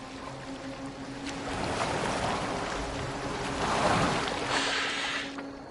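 Viking-era boat gliding over water in Assassin's Creed Valhalla, a soft continuous wash of waves and hull splashing, fairly quiet with gentle swells in intensity and no talking.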